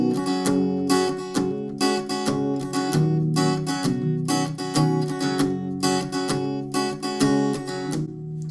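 Acoustic guitar plays the verse of a song with palm-muted picking, a steady repeating pattern of clipped plucked chords and ringing notes, close and clear with no voices.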